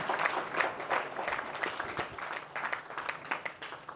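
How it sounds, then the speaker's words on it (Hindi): An audience claps in applause at a spiritual talk, a moderately loud, dense patter of many hands continuing throughout without talk. "ताली बजा देते।"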